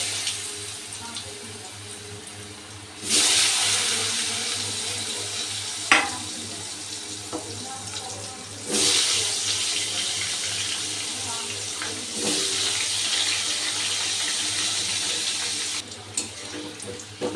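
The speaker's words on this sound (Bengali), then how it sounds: "এবার আলুগুলো ভেজে নেব।" Potatoes frying in hot oil in a home kitchen pan, a steady broad hiss that swells in several loud bursts as pieces go in or are turned, with a few sharp clatters and a faint low hum beneath.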